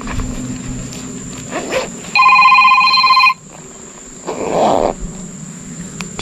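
An incoming call rings on a phone outdoors during a fishing trip, one brief electronic ringtone burst lasting about a second, loud and close over background insect and ambient noise.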